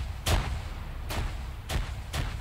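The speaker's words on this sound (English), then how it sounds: "Alright, nade out west." Grenade blasts in the video game Arma 3, four dull, booming thuds spaced unevenly over a few seconds, heard somewhat distant with no talk over them.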